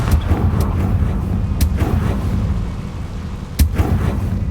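A Confringo fire spell is cast in Hogwarts Legacy, giving sharp blasting bursts near 0.1, 1.6 and 3.6 seconds over a steady rumbling game background, with no talk.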